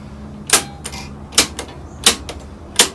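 Chunky mechanical clacks from the push-button piano keys of a Nordmende Rigoletto 59 valve radio, pressed one at a time in four or five sharp, close, evenly spaced clicks with no talk.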